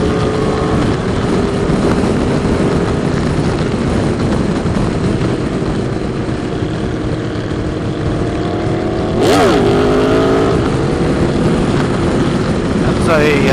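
An Aprilia Tuono motorcycle engine drones loudly and continuously at a cafe racer ride in Dallas, Texas, mixed with wind rush and other bikes, with a brief rising rev or passing swell near the end.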